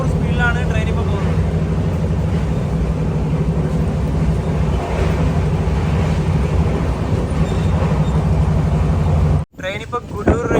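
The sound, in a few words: Grand Trunk Express train running at 130 km/h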